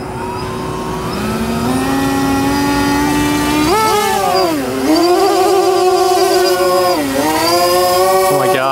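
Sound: electric motors of RC tailsitter aircraft taking off

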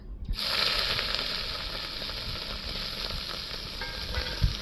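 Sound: meat sizzling as it is added to hot oil in a wok

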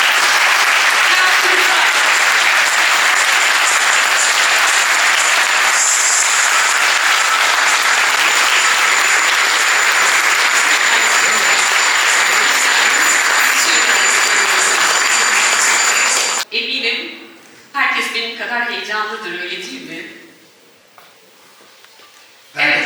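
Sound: audience applause welcoming speaker

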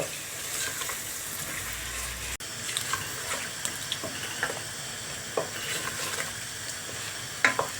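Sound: stirring tomato paste, pepper paste and spices in a pan

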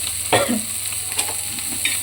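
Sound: stirring chutney on a hot griddle

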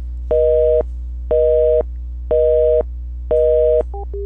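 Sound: telephone busy signal from Asterisk voicemail system

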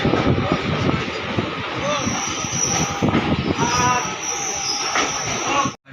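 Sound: train stopping at Rampurhat station platform

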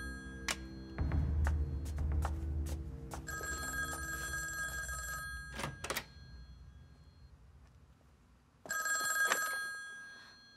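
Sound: telephone bell ringing in drama

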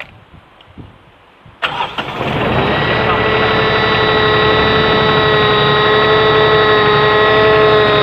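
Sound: 3-cylinder diesel engine of a hydraulic pump starting

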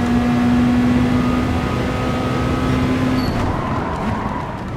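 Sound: racing cars skidding in video game Gran Turismo Sport

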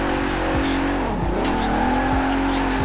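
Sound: car drifting with clutch kicks in video game Forza Horizon 4

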